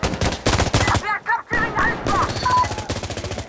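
Rapid machine gun bursts from a drum-magazine weapon in the Insurgency Sandstorm video game, loud and close, with a short gap mid-clip filled by faint tonal game effects before the steady hammering fire resumes.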